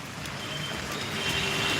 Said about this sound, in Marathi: पाऊस चालू आहे सकाळपासून पाऊस चालू आहे